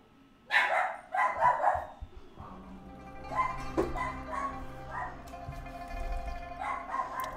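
Several dogs bark in quick bursts, with yips and a whimper. Nearby at first, they then fade to fainter barking over a steady background hum.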